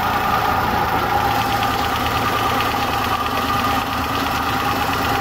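A car engine running after a tachometer install, a loud, close, steady mid-pitched drone at raised revs with a slight dip near the end, no talk.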